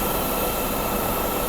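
A Mercedes R129 500SL engine runs after a fuel distributor repair, giving a steady, loud, broadband roar that holds without change and with no talking.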